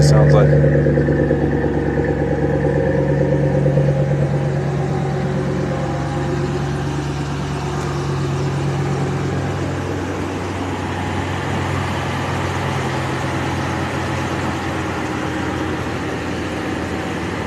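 A 2017 Ram 1500 Quad Cab pickup fitted with an S&B cold air intake idles steadily close by, a continuous low engine rumble with no revving throughout.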